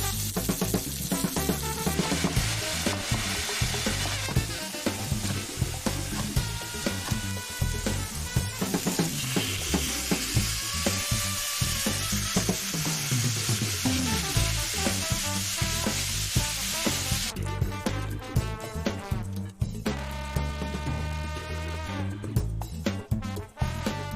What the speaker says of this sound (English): Clean your pan and caramelize some onions while you cut the meat.